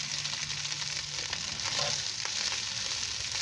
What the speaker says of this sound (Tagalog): Now I'm going to add the rice.